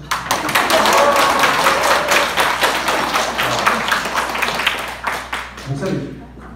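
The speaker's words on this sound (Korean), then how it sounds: "박수 주시죠." Audience applause at a church teachers' seminar in Daegu, a dense run of clapping filling the room for several seconds and gradually thinning toward the end.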